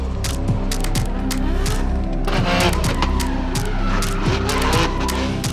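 JDM cars drive out at a Canadian festival, engines revving loudly and tires squealing in repeated bursts close by, with a dense roar of several vehicles and no speech.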